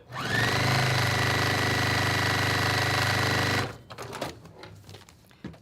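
A sewing machine stitches a quilt block in one steady, loud run of a few seconds, then stops, followed by light handling sounds of fabric.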